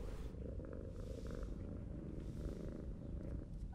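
A cat purrs steadily and close by, a continuous low rumbling throb with soft airy texture and no voices over it.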